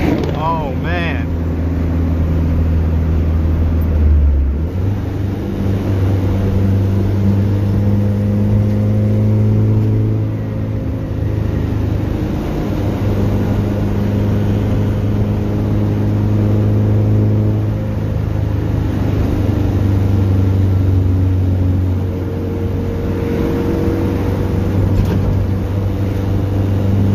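Turbocharged B20 VTEC Honda Civic engine revving loud and close inside the car, its pitch rising and falling through gear pulls with a steady drone, while people talk over it.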